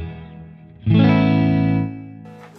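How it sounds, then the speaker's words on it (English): A single electric guitar chord rings out clearly through a Boss Katana amplifier on its clean setting, sustaining for about a second before fading, with a brief note at the end. "This is the clean sound of my Boss Katana."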